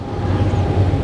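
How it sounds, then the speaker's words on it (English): A steady low rumble with a faint high whine, like a train rolling past at a moderate distance, continuous for the whole moment. "Well, excuse the train."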